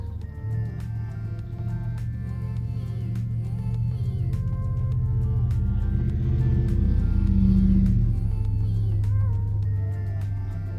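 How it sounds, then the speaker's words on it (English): Low, steady road rumble from traffic swells and fades over about ten seconds, with a faint high whine riding on top. "Sorry if you can hear the cars"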